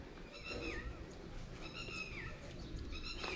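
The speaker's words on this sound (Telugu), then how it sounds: "పక్షులు చూడండి ఎలా అరుస్తున్నాయి ఈరోజు" Birds call near a fruit orchard with small pomegranates, a few clear whistled, rising-and-falling notes repeating in three short bursts over a soft background hiss, moderately distant.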